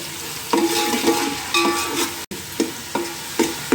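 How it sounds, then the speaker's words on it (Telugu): Masala fries in a pan for fish curry, a steady sizzle broken by repeated scraping strokes of a spoon stirring against the pan, close and fairly loud, with no talk. "మసాలా ఇది దోరగా వేయాలి."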